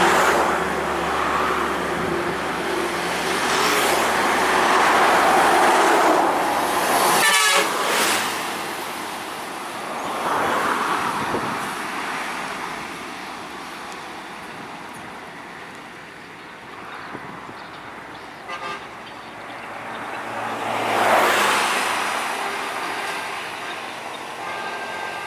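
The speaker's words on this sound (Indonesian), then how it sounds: "Bus Intra Ekonomi Luxury dari Pematang Siantar menuju ke kota Pekanbaru." An Intra Ekonomi Luxury bus travelling from Pematang Siantar toward Pekanbaru rumbles along the road, its engine and road noise swelling and fading as it passes, with a sharp thump partway through and repeated surges of rushing noise.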